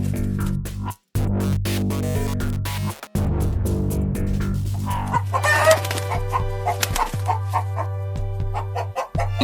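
Chickens cluck and a rooster crows close by on a farm, the calls overlapping in steady bursts over a continuous low hum.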